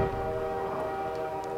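Train rumbling past on a track in Half-Life 2, a steady, fairly faint mechanical drone with sustained tonal hum and no talking.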